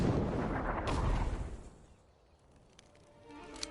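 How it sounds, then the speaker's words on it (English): Mortar artillery fire from a video game set in India booms in a heavy, dense low rumble that swells for over a second and then fades, leaving quieter ambient crackle with a faint renewed rise at the end. "their mortars will bring this tower down"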